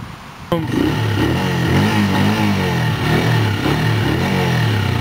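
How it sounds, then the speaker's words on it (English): A motorcycle engine fires up abruptly and revs loudly nearby, rising and falling in repeated throttle blips over a rough idle, with no talking. "You want to hear my sexy bike rev?"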